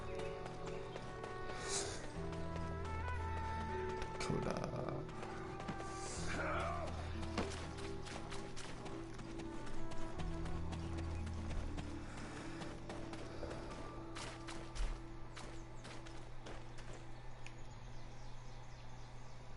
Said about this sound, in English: to go and get my horse